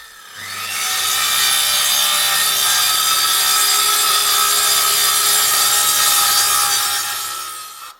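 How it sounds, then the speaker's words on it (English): Circular saw trimming wooden boards for a shepherd's hut kit build, one sustained loud cut lasting several seconds, spinning up, biting steadily through the wood, then winding down, with no voices. "then we used the circular saw to trim them off"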